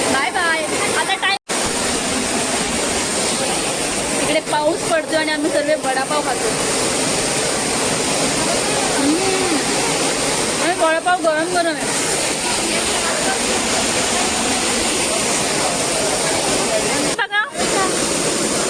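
Tapalwadi waterfall at Neral during the monsoon roars as a steady, broad rush of falling water with rain, running continuously beneath frequent nearby talk and chatter from a group of friends.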